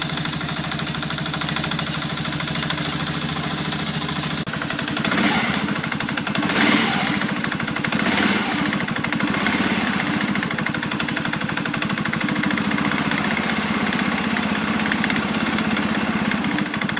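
A 2011 Polaris Sportsman 500 ATV engine idles steadily after a cold start, a continuous close mechanical drone that gets slightly louder and rougher partway through and then holds.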